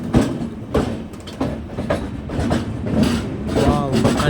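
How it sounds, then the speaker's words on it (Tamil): The Thirukkural Superfast Express crosses at Madurai Junction, its wheels clattering in a steady clickety-clack close by, with squeals and rumbling carriages while someone talks over the noise. "ஸோ அங்கேருந்து வர திருக்குறள் சூப்பர் ஃபாஸ்ட் எக்ஸ்பிரஸ் தான் நம்ம கூட இப்போ மதுரையில் கிராஸ் ஆகிட்டுருக்கு"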